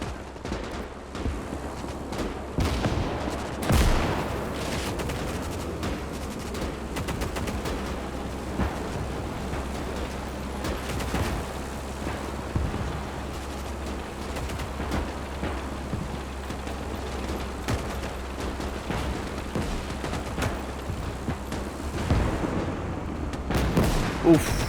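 Sustained battle din from a Gates of Hell WWII game fight on the Mannerheim Line, with dense overlapping gunfire and heavy thuds of artillery rolling continuously under a low rumble, a few sharper blasts standing out.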